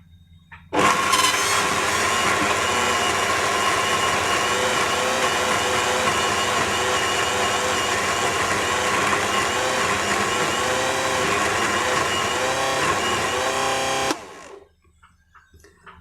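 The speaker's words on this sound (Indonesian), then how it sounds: "kita mulai giling." Electric grinder blending sambal with shrimp paste, switched on for a loud, steady motorized whir that holds for about thirteen seconds, then cuts off and spins down to quiet.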